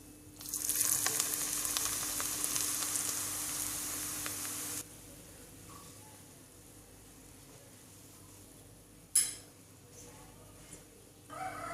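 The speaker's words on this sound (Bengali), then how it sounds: "এবার আমি সরষের তেলটা পুরোপুরি গরম করে নিয়েছি, এবার আমি ঢেলে দিচ্ছি" Hot mustard oil is poured over green chili paste for a pickle, setting off a loud bright burst of sizzling for a few seconds that cuts off abruptly, followed by quieter background noise and a sharp clatter.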